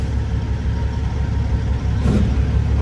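A Peterbilt truck's engine revs loudly and close by, a steady deep rumble that swells slightly toward the end, with no talk over it.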